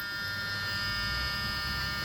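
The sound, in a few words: car warning buzzer in a 1977 Lincoln Mark V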